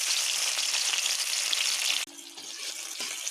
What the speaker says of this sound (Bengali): তেলটা গরম হয়ে গেছে, এবার আমি দিয়ে দেবো কোচানো পেঁয়াজ।